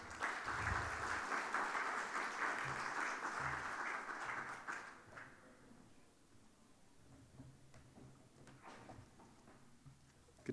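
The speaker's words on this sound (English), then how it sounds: "So welcome, Mr. Grover, with a very round of applause." Audience applause welcoming a speaker at an international tax conference in Dubai, a sustained clapping crowd that fades out midway, leaving quieter room noise and scattered small sounds.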